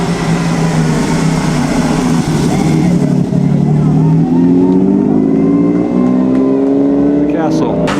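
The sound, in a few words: Ferrari classic race car engine passing, Mille Miglia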